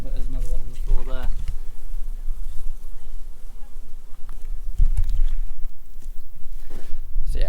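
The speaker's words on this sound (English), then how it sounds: "So yeah, wasps have just about started to become a bit of an issue." Wasps buzz around a beehive honey super during beekeeping, a constant close droning hum under people talking, with some handling knocks near the start and middle.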